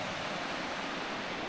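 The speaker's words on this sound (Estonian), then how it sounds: "Vesi jookseb." Water runs steadily near an aqueduct in a mountain valley in Albania, giving a constant broadband rush that stays close and even, with no pauses and no voices.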